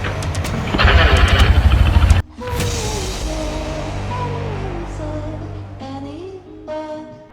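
A Suzuki SV650 650cc motorcycle on a winter ride toward Ljubljana, its engine note shifting up and down through gears with a louder rough burst early on, steady and fairly close throughout.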